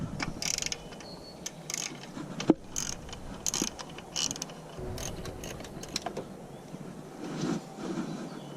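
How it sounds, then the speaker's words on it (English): Ratchet with a 10mm socket loosening a bolt on a 2014 Mercury 115 hp four-stroke outboard, giving scattered close clicks and mechanical ticks at low level, with no talk. "To remove this bolt, you need a 10mm socket"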